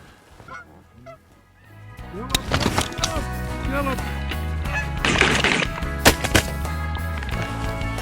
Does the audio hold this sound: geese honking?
yes